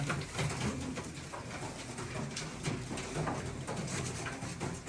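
Bukhara pigeons cooing in a loft, soft repeated low coos over a busy background of rustling and shuffling, moderately close and with no speech.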